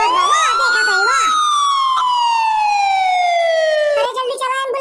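A wailing ambulance siren sweeps up and then glides slowly down in loud, sustained tones that fill the scene, with a brief burst of clatter and commotion near the end.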